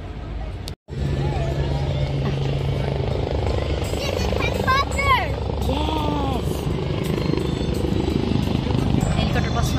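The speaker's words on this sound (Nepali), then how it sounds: "हेलिकप्टर बस्नु लाग्यो त्यहाँनिर यहाँ नजिकै छ हेलिप्याड त्यही भएको भएर आर्मीको हेलिकप्टर हो हजुर" An army helicopter comes in to land at a nearby helipad, its steady rotor and engine roar filling the scene continuously, with people talking and some crowd babble underneath.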